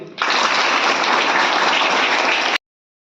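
Students in a classroom burst into loud, dense applause that starts abruptly, holds steady for a couple of seconds, then cuts off sharply.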